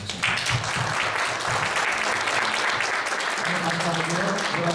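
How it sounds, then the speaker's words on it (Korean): A church congregation gives a round of thankful applause after a prayer, a dense, moderately loud clapping that runs steadily throughout, with a low murmur of voices beneath it. "하나님께 감사의 박수"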